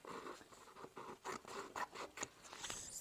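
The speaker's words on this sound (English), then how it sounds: "I'm reasonably good with scissors" Scissors cut through paper in a series of close, quiet snips and scrapes, irregular and crisp, with no talking.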